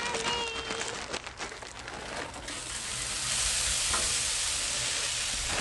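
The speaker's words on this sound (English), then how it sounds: "we're going to go ahead and take a little bit of this and stick it onto our griddle" Frozen shredded hash browns hitting a hot Blackstone griddle, crackling and crinkling as they are scattered on, then settling into a steady, close hiss of frying.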